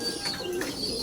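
Pigeons or doves cooing softly in a breeding loft, a low steady murmur of coos over faint background chirps, fairly quiet and continuous.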